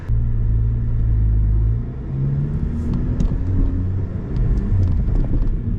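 A Volkswagen MK7 GTI with a Stage 2 tune pulls at full throttle in third gear, a loud, steady engine drone rising in pitch before easing off, then a rumbling cruise with faint ticks and clicks.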